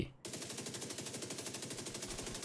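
A UMP submachine gun fires in The Division 2 in a loud, rapid, evenly spaced automatic burst of about twenty shots, close and alone after a short pause.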